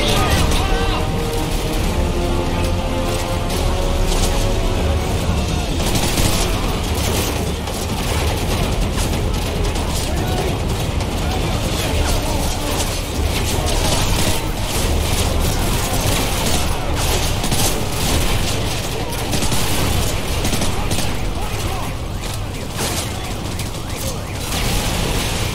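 Gunfire during Call of Duty: Modern Warfare 3 gameplay on the Mind the Gap mission, dense rapid automatic bursts and booms that carry on nearly continuously, loud and busy with game voices mixed in.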